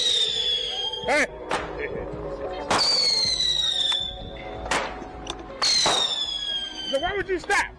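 Fireworks go off in several loud bursts with whistling, descending squeals and sharp cracks, spaced irregularly and fairly close.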